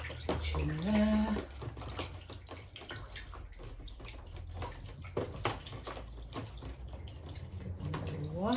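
Water running from a tap over the roots of a repotted plant being rinsed, a steady close splashing and trickling stream with a few louder gushes and spatters, no talking.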